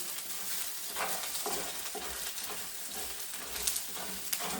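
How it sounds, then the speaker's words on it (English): Egg white being stir-fried and broken into small pieces in a hot wok while making scallop fried rice, giving a steady sizzle with repeated scraping and stirring strokes, close and continuous with no talk. "I'm also going to like basically break the egg white into small pieces."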